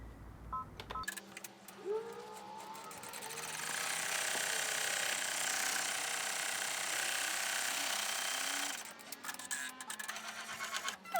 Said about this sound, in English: we're going to start out first with our placement stitch